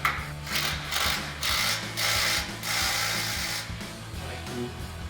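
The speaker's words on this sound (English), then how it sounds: "We're gonna tighten this bolt right here, again with that 18mm." A ratchet with an 18mm socket tightens a bolt on a truck grille guard for a 2007-2021 Toyota Tundra, giving loud, close bursts of rapid clicking in several strokes separated by short pauses.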